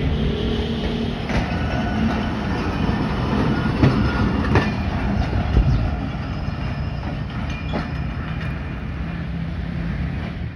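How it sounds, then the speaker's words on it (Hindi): The 36 Down train pulls out of Gujrat railway station after a two-minute halt, a loud, steady rumble with rhythmic clickety-clack of wheels over rail joints and occasional faint squeals throughout. "2 मिनट रुकने के बाद 36 डाउन निकल रही है।"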